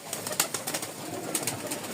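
Pigeons at a loft in Rajshahi, Bangladesh, where the birds are sold, coo and flutter in a busy, continuous chorus, with short repeated calls rising above a steady background.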